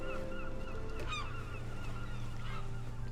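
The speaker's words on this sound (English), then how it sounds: "Bird." Honking bird calls in the video game RiME, a few goose-like cries over a steady ambient drone, heard at a moderate distance.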